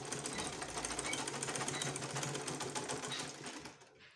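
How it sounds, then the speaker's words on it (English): Sewing machine stitching fabric for a dolman dress, a fast continuous needle chatter running steadily and close, then stopping just before the end. "so on both sides I will sew it 1/2 inches"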